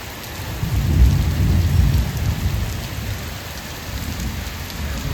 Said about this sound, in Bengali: মুষলধারে বৃষ্টি হচ্ছে হঠাৎ করে।